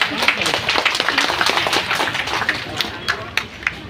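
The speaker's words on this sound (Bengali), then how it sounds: "হাততালি দিয়ে সবাইকে উৎসাহ করবেন।" A crowd applauds at an official public event in India, steady dense clapping with scattered sharper claps, moderately loud and continuous throughout.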